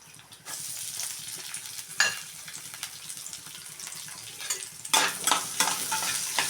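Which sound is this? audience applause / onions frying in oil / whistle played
onions frying in oil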